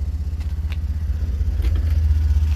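A BMW Isetta's small engine idles close by, a steady low throb with rhythmic pulsing and light mechanical clatter, no voices.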